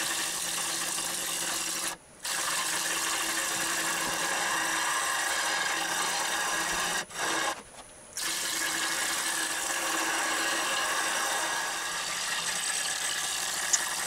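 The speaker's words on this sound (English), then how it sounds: "Carefully start working my way into the bowl. Try to ride the bevel at the edge." A woodturning gouge cuts into a live edge crotch bowl spinning on a lathe, a continuous rough hissing scrape broken by a few short pauses as the tool lifts off the wood.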